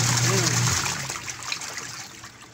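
Water gushing and churning inside a washing machine after a belt adjustment, a loud rushing splash that gradually fades over a couple of seconds.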